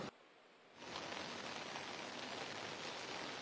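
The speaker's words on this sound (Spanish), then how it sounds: "Llueve más fuerte en este momento en Quilcot de Cartago" Heavy rain pours down in Quircot, Cartago, starting after a brief quieter moment and then holding as a loud, steady, dense hiss with no voices.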